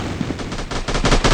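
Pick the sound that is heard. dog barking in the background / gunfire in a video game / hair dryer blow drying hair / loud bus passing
gunfire in a video game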